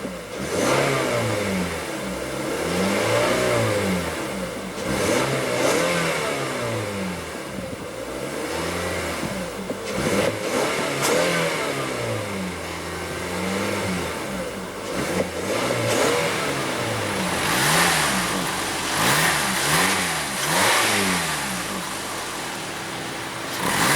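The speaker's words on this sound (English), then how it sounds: "And let's go ahead and rev it up." A 2016 Toyota Camry engine is revved repeatedly, rising and falling in a series of loud, close revs that blend into a continuous engine roar.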